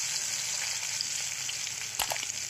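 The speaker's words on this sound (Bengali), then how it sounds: "এবার এর মধ্যে দিয়ে দেবো 1টা পেঁয়াজ কুচি দিয়ে আবারও একটু নাড়াচাড়া করে নেব।" Chopped onion and cumin frying in oil while being stirred, a steady hiss under light scraping, with a sharper clatter of utensil against pan near the end.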